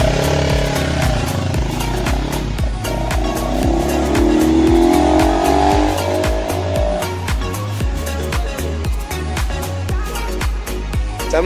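A 177cc motorcycle engine with an aRacer RC Mini 5 ECU is revved repeatedly during tuning, giving loud, close bursts of rising and falling engine pitch. A faint voice can be heard in the background.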